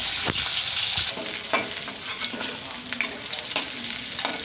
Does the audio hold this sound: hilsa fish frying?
yes